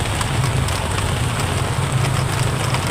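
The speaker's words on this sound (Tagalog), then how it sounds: "Sobrang lakas ng ulan dito sa tulay ng Minawog." Heavy rain pours down steadily at the Minawog bridge, a dense, loud, unbroken wash of drops close by with a low rumbling undertone and no voices.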